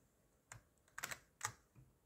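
A few sparse, quiet clicks of keys on a computer keyboard as a short program is typed, close and isolated with no talk.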